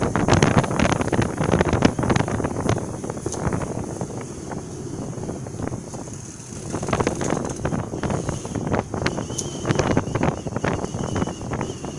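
Strong wind of about 25 knots, gusting to 30, roars across the microphone aboard a sailboat at sea in the Mozambique Channel, a loud buffeting rush with water wash throughout and no talk.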